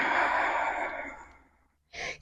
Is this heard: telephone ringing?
no